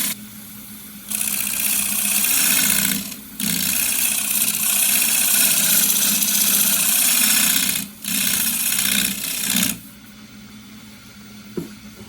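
A green elm bowl spins on a wood lathe under a light shear-scraping cut, a loud, steady whirring rasp that drops out briefly between passes and stops near the end, leaving quieter motor hum.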